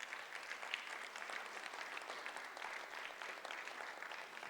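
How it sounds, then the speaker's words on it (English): Inside Second Baptist church during an evening lecture, the audience gives a dense, continuous patter of applause that stays even and fairly quiet from start to finish. "A round of applause."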